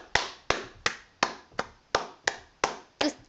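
Nine slow, evenly spaced claps ring out close and crisp, each sharp hit trailing off before the next in a steady deliberate rhythm, with no crowd joining in.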